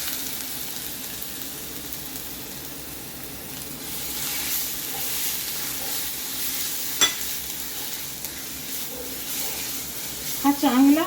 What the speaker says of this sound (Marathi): हा चांगला मी आता परतून घेणार परत.